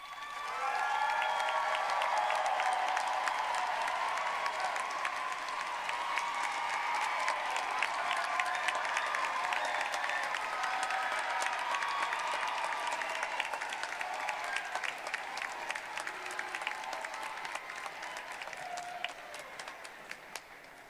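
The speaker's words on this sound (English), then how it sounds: "please stand so our graduates can recognize and thank you with a warm round of applause" A commencement crowd gives sustained, even applause for faculty and staff, a broad steady wash of many clapping hands that slowly tapers toward the end with some cheering.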